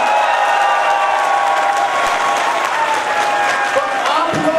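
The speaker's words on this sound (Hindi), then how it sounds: "सबसे जबरदस्त एक ताली बजा दो।" An audience at a training session claps loudly and steadily without a break, with a faint cheer woven into the dense, close applause.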